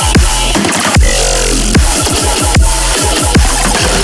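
A dense, loud dubstep drop played dry without its effect stack, with heavy repeated bass hits sweeping down under gritty, distorted mid and high layers in a driving rhythm.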